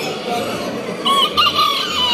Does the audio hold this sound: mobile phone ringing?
no